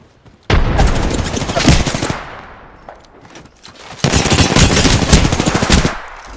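Gunfire in a shooter video game comes in two loud bursts of rapid automatic fire, close and dense, separated by a quieter lull.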